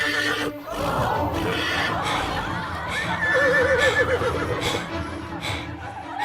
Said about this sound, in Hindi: ये जंगली घोड़ा है